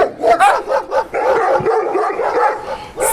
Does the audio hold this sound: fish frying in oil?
no